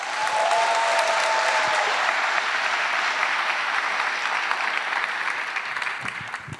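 An audience at a CSS conference welcomes a speaker with sustained, dense applause, loud and even from start to finish and fading slightly at the end, with a short whistle-like tone early on.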